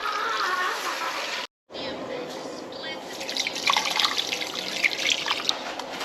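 Water is poured into a pot of chicken pieces and sautéed vegetables for chicken soup, a continuous splashing trickle heard close up that is briefly cut off near the start.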